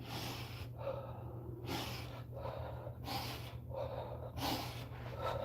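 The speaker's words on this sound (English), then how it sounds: "Exhale that out through the mouth." Slow, controlled breaths pushed out through the mouth during a guided breathing exercise, three or four airy exhales in a steady rhythm, close and fairly quiet over a low steady hum, with no talking.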